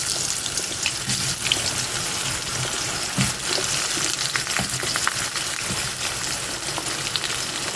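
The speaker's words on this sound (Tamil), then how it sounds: "கடுகு நல்லா பொரிஞ்சிருச்சு கருவேப்பிலை போட்டு இப்போ மாங்காய் இருக்கும்" Mango pieces frying in hot oil with spluttering mustard seeds and curry leaves for a Tamil New Year dish: a continuous bright sizzle dotted with small pops and the odd stirring clatter, close and steady, with no talk.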